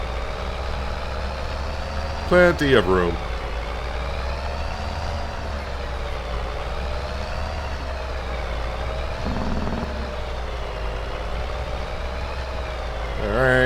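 Truck engine idling in Farming Simulator 22, a steady low rumble with a brief clattering burst early on. Someone talks briefly over it.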